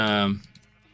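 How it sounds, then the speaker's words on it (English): A single short, wavering sheep bleat from a video game sounds up close, then fades into faint clicking. "I just threw the sheep here because there's a bunch grazing over the side."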